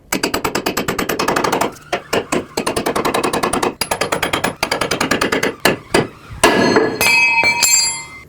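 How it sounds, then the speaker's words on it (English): Repeated sharp metallic hammer strikes on a pickle fork separating a ball joint stud from the knuckle of a 2005-2009 Chevy Equinox, in fast ringing bursts close by, with short pauses between volleys and a brief clink at the end. "Now I'll take my pickle fork and hammer, try to separate this ball joint stud from the knuckle."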